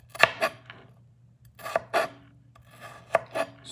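Knife slicing tomatoes into small squares on a board while making potato and chorizo tacos: clusters of crisp, rasping cuts in short bursts with pauses between, close and fairly quiet, with no talking.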